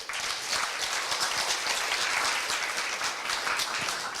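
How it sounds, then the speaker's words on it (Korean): A concert audience at a Korean traditional music performance with piri and janggu players gives a sustained round of applause, many hands clapping together in an even, continuous wash with no voices on top. "모두 다시 한 번만 뜨거운 박수 부탁드리겠습니다"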